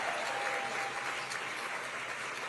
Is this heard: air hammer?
no